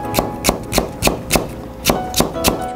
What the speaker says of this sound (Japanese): パプリカは薄切りにします。